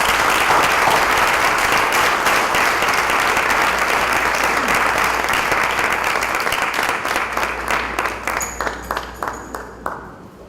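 Audience applause welcoming Dr. José Padrón Guillén to a lecture, a thick, loud burst of clapping that holds steady and then thins into scattered individual claps as it dies away.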